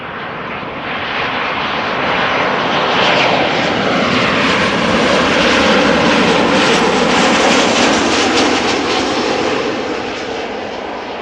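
A KLM Boeing 737-800 passenger jet at Amsterdam Schiphol roars past with a loud, broad engine rush that swells and holds steady for about eleven seconds, then eases slightly at the end.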